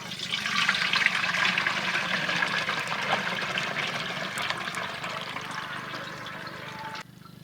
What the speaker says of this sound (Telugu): సిద్ధంగా తీసుకుని వడపాత్రలో వడబెట్టుకుంటాను.